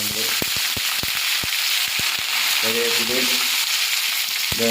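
Curry leaves and dried red chillies hitting hot oil with mustard seeds for a tempering for Brahmin-style roasted-coconut sambar, a loud steady sizzle and hiss peppered with sharp popping crackles close by.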